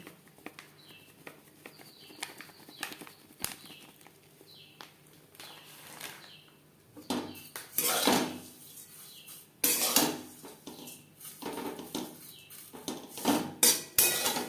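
A spoon clinks and scrapes against a pan as semai vermicelli is stirred while milk powder goes in, faint at first and then louder in bursts of metallic scraping and clatter, with birds chirping faintly in the background.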